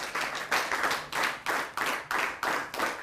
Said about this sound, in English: A round of applause to our judges.